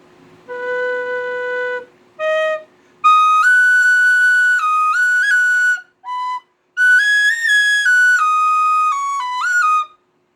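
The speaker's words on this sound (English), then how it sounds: "this one is a good starter whistle" A tin whistle plays alone, bright and clear, with sustained notes and quick ornamented runs across several phrases separated by short pauses.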